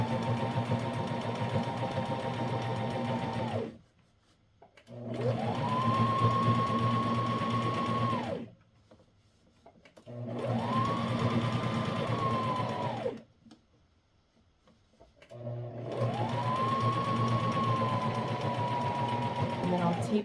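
A domestic sewing machine stitches elastic onto a wool diaper cover in four sustained runs of steady whirring, each stopping for a second or so between bursts, close and fairly loud.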